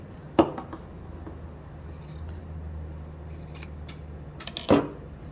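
Scissors trimming excess fabric from the corners of a sewn tote bag: two short, crisp snips several seconds apart over a quiet, faintly humming room.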